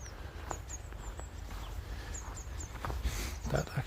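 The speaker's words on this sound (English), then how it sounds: "Can you hear all the birds?" Birds chirp in short, high calls scattered through a quiet winter forest on the outskirts of Eskilstuna, Sweden, moderately distant over a soft background hush, with a few low thuds near the end.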